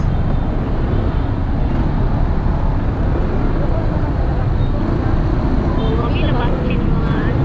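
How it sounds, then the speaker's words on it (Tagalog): Heavy road traffic at rush hour with students leaving school, a dense constant rumble of engines and tires close by, loud and unbroken, with a voice talking over it. "Eh, sobrang traffic ngayon guys,"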